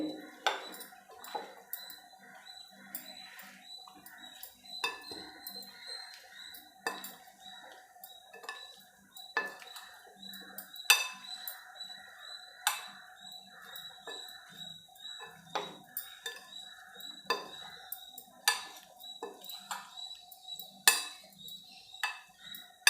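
Cauliflower being mixed with curd, salt and masala in a bowl: repeated sharp clinks and scrapes of a spoon against the bowl in an irregular rhythm, close and fairly quiet, with soft room noise between strikes.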